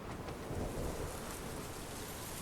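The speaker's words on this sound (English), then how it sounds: "One of them lightning storms, right?" Thunderstorm scene from the 2005 film War of the Worlds, with steady heavy rain and low rolling thunder filling the whole stretch, loud and continuous with no voices.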